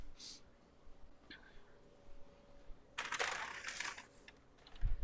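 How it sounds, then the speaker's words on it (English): A wrapped package is unwrapped close by, with a short faint rustle early, then a loud burst of crinkling, tearing paper in the middle and a low thump at the end, with no talking. "I'm going to unwrap something for you to show y'all what I got."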